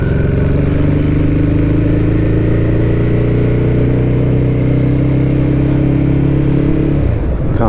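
Ducati Hypermotard 821 motorcycle being ridden: a loud, steady twin-cylinder engine drone with wind rush at constant pace, the tone shifting briefly near the end as the throttle changes.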